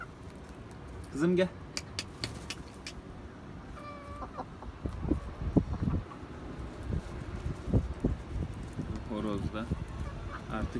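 Bantam Cochin chickens cluck and call in a field, with scattered nearby clucks throughout and a brief louder squawk early on, while a person speaks over them.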